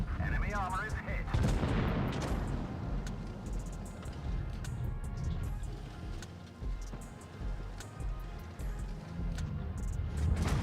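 Tank gunfire in a video game, with heavy cannon booms and rumbling artillery-like blasts up close, some louder hits at the start, while a voice speaks over the fighting.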